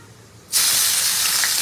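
Onion paste hits hot oil with a sudden loud sizzle that bursts in after a quiet moment and holds as a steady, bright hiss close by.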